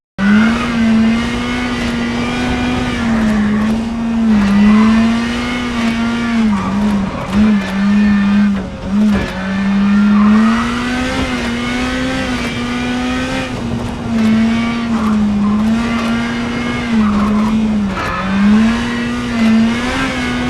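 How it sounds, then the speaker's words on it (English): Rally car engines in a racing video game drone steadily at high revs, the pitch rising and dipping with gear changes, loud and continuous with occasional tire noise. "About the sound part, this is how the cars in the game sound like."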